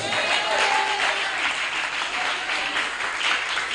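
A church congregation applauding and cheering during a French-language service, a loud, dense wash of clapping from many hands that carries on steadily throughout.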